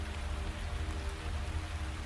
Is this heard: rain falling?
yes